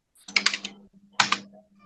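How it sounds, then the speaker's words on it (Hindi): Rapid bursts of keystrokes from someone typing, close and distinct, in two quick clusters with a brief pause between them and a faint hum underneath. "यार ये टाइपराइटर चल रहा है किसी का"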